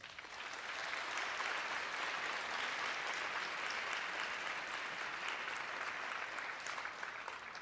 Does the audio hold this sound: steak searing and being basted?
no